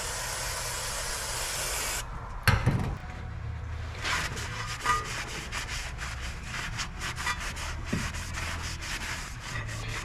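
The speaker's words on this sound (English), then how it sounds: "that's the nice thing about brake clean, is it dries out pretty quick" Brake cleaner hisses from a spray can onto the rear brakes of a Honda Civic, a long steady spray close by, broken by a sharp clatter, then a run of short rhythmic bursts.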